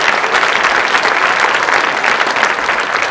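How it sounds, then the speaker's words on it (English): Audience applause at a school student recognition program, a dense steady roar of many hands clapping that fills the whole moment, loud and continuous with no talking. "I think they deserve a round of applause."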